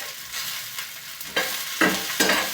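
Tomatoes frying in a tempering over lowered heat, stirred with a spoon: a soft continuous sizzle broken by three or four louder scraping strokes toward the end, close up with no voices.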